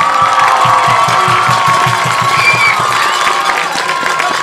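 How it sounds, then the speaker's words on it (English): A stadium crowd cheers and applauds for the Mount St. Joseph football team during a high school game, a loud sustained roar of voices and clapping with some rhythmic chanting underneath. "how about a round of applause for our Mount St."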